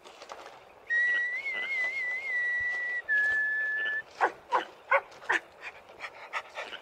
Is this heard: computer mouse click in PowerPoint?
no